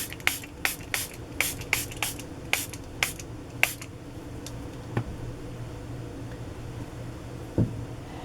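A spray bottle of Distress ink spritzes in about a dozen quick, sharp bursts close by, evenly spaced at first, then a couple of faint clicks and a light knock follow in a quiet room.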